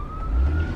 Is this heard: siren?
yes